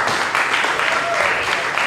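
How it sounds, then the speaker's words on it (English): An audience at an open mic night in a bar claps in a brief, dense burst of applause, mixed with voices. "Big round of applause for Kevin Lightner and keep it going for our"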